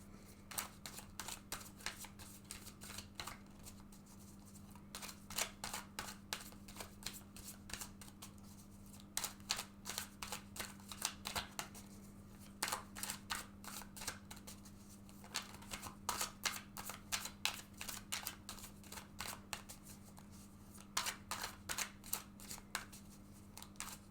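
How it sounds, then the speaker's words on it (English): A tarot card deck being shuffled repeatedly, with bursts of riffling and soft slaps in an irregular rhythm over a steady low hum. "let's go ahead and shuffle this deck several times now"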